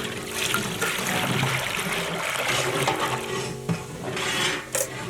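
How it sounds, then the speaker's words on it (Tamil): Tamarind water pours and trickles into a fish curry during outdoor village cooking, a steady wet splashing stream with a few clinks of the pot, heard up close and without talk. "புளி தண்ணி"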